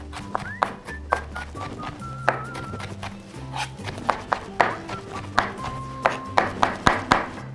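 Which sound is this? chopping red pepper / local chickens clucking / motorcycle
chopping red pepper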